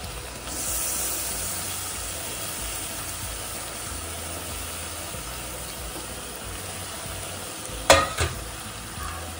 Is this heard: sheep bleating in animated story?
no